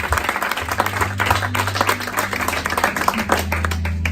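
A church congregation claps and applauds steadily and loudly, a dense, continuous patter of many hands with a low hum of voices underneath throughout.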